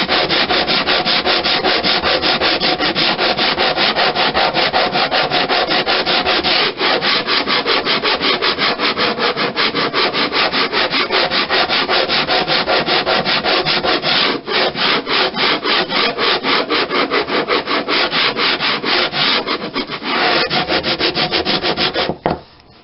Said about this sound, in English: Sander, this is, I believe, 60 grit.